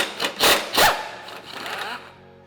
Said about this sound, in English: so we're going to take the 17mm nut off